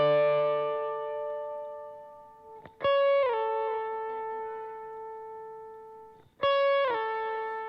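Electric guitar lines track played through effects, clean sustained notes with bent, sliding pitch changes and long reverberant tails, two distinct phrases ringing out alone.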